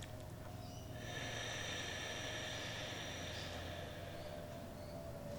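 A long ujjayi yoga exhale through a slightly constricted throat: a steady, breathy hiss that swells in and holds for a few seconds, close and fairly quiet over a faint room hum, with no talking.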